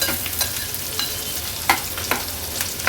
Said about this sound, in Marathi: कांदा पण तेलावर छान आपण परतून घेणार आहोत